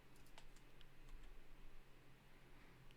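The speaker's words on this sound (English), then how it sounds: "Goddamn keyboard." Quiet, rapid key taps from a computer keyboard that is acting up, heard close but faint over a low steady hum, with no talking.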